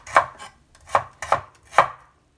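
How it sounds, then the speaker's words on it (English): A knife slices thinly through an onion on a cutting board in four crisp, evenly spaced chops, close and clear, with no other sound. "Then thinly slice your onion and add to your salad."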